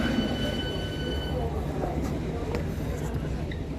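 A train rumbles past in Stockport with a low, continuous roar and faint metallic squeals, while muffled voices murmur underneath.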